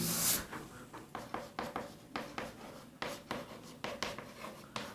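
Rhythmic chalk or marker strokes on a board during an inverse trigonometry lesson, a close series of short scratchy writing bursts with no talk over them.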